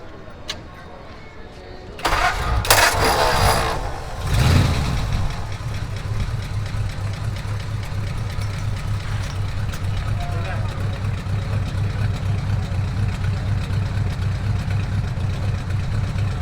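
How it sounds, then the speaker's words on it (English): A 1928 Ford Model A flathead engine with Cherry Bomb exhaust cranks and catches with a loud burst, revs briefly, then settles into a steady, quiet idle with a low rhythmic putter. "for a flathead, she does run nice and quiet."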